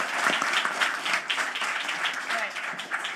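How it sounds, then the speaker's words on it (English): A crowd claps steadily for a design team at an event, giving a dense, even patter of many hands at moderate loudness for a few seconds with no voices on top. "please join me for a round of applause now for the design team at Roman and Williams"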